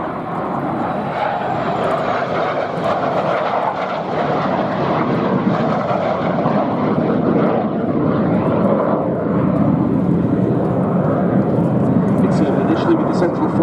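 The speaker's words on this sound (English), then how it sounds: "led by an aircraft that was only the third Jet Provost T5 ever produced" A Jet Provost T5 jet trainer, built in 1969 and flown in an airshow tail chase at Duxford, gives a continuous loud engine roar throughout, heard under a commentator talking.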